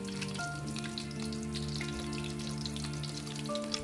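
Talakitok fish frying in oil: a dense, continuous crackling sizzle, loud and close, with a faint steady hum beneath it.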